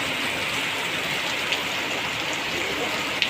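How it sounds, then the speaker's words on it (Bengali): Heavy rain pouring outside a railway station, a dense steady hiss with a couple of faint drop clicks, close and even throughout, with no talk. "দেখো কতটা বাইরে বৃষ্টি হচ্ছে, প্রচণ্ড বৃষ্টি পড়ছে"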